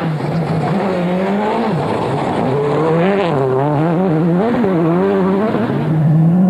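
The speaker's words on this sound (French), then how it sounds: "Au volant d'une Citroën Xara privée, engagée par l'équipe Astra Racing" A privately entered Citroën Xsara rally car tears along a special stage in Cyprus, its engine loud and close as revs rise and fall continuously through gear changes, with no voices.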